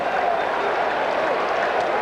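A baseball crowd at Game 6 of the 1986 World Series, Red Sox at Mets, cheers on pitcher Ojeda with a steady, dense roar that holds level throughout the brief moment.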